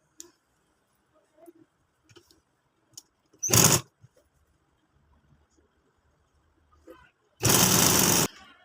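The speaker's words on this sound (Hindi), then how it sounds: "सिलाई लगाते जाएंगे।" Sewing machine stitching fabric for a lunch box organizer runs in two short close bursts, the second longer, separated by quiet handling clicks.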